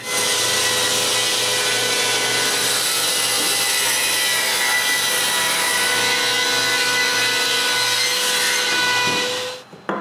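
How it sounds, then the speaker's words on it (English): A power saw rips walnut lengthwise into strips for a clock frame. The cut makes a loud, continuous whine with a rough grinding edge, holding steady for about nine seconds before the blade spins down at the end. "Next, I rip several strips to the width of the frame."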